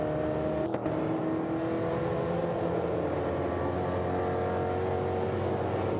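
V8 ute race cars at Pukekohe racetrack, a continuous engine drone with steady tonal whine from cars at speed on the last lap, heard from a distance.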